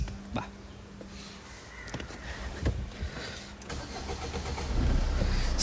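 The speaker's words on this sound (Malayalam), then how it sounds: "അപ്പോൾ നമ്മളിതിൻ്റെ വണ്ടിൻ്റെ സ്റ്റാർട്ടിങ് വീഡിയോ കാണിച്ചു തരാം" A 2013 Maruti Swift hatchback starts with a short cranking stutter, then catches and settles into a rising, steady engine idle, close by with no talk.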